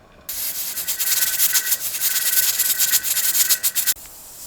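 A pressure canner's weight rocks and jiggles while chicken broth is processed, releasing a loud, steady, close hiss of steam with rapid pulsing flutters that cuts off abruptly near the end.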